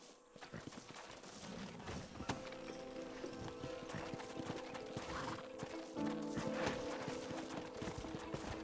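Horse hooves clip-clop at a steady trot in Red Dead Redemption, amid busy game sounds, with clanks and a brief whinny-like rise near the end.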